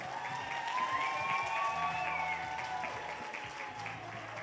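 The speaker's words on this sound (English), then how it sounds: "Please give our panelists a round of applause." Steady applause from an audience after a panel discussion, a dense wash of clapping held at an even level throughout, with faint tonal sounds drifting underneath.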